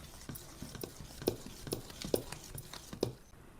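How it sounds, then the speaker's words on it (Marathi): Amboli rice batter with jaggery being mixed in a pot, a faint series of soft wet slaps and spoon knocks in an uneven rhythm, close by and with no voices. "मिक्स करून घेऊया आपण चांगलं।"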